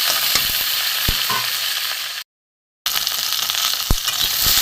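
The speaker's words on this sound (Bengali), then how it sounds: "এখানে ঢেঁড়স আলু ভেজে নেব প্রথমে" Okra and potatoes fry in hot oil with a steady, bright sizzle and occasional stirring knocks, broken by a short stretch of total silence midway before the frying resumes.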